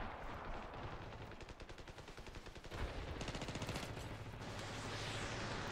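Sniper and rapid gunfire from a Ravenfield battle with many bots, a dense run of shots and bursts, some near and some distant, with no talk over it.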